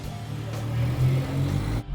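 A Rover 216 car engine runs nearby with a steady, smooth idle hum, rising slightly in the middle before a brief cut near the end.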